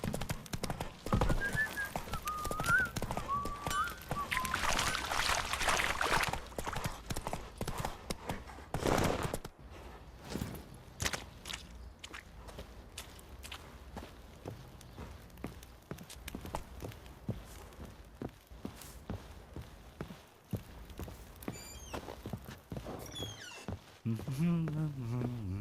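Hoofbeats of the horse Roach in The Witcher 3, a steady clip-clop of trotting hooves running through most of the stretch beneath game music and other sounds, with people talking at moments.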